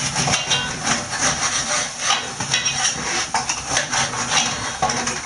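Knife sawing through freshly cooked damper bread at an outdoor camp cooking setup, close and fairly loud, a continuous run of scraping, crunchy strokes with soft knocks against a board, and no talking.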